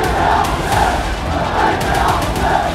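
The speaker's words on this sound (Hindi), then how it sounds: "जगह जगह भीड़ सड़कों पर इकट्ठा होकर नारेबाजी कर रही है।" A large street crowd chanting slogans in unison, loud rhythmic massed voices rising and falling in repeated bursts, dense and sustained throughout.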